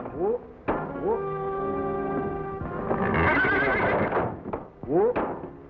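A horse whinnies loudly and close by several times, shrill rising-and-falling neighs with a snort between them.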